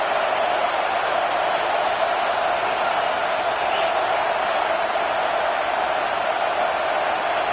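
Steady roar of a stadium crowd at a college football game, a dense, constant wash of voices and cheering with no pauses, filling the whole clip at a loud, even level.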